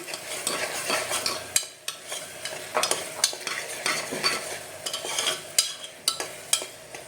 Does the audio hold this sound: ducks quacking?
no